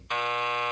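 A single loud electronic beep in the video game Plumbers Don't Wear Ties bursts in abruptly and holds as a steady, buzzer-like tone to the end.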